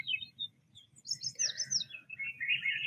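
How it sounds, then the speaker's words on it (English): Several birds in a boreal forest chirp and trill in quick overlapping phrases, moderately near, with a soft low rumble underneath and no talking. "the different varieties of birds that we were hearing"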